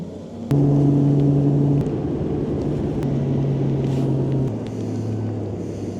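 A bass fishing boat's outboard motor drones steadily on Lake Okeechobee, loud and close under overcast skies, with wind and hull noise and the engine pitch dropping slightly near the end.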